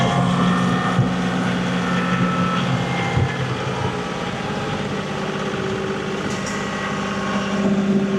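A snow plow vehicle clears lake effect snow from a driveway with a steady, droning engine rumble. The low hum holds constant at moderate loudness throughout, with no voices.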